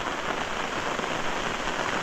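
Heavy rain pours down during Navratri near a temple in the countryside, a dense, loud, unbroken hiss of drops on surfaces with no voices.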